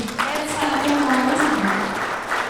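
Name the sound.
audience applause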